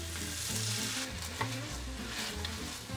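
Rabbit stew vegetables and marinade sizzle and fry in a pot for Lapin aux Olives, a constant close bubbling hiss with a brief clack of stirring, with music underneath.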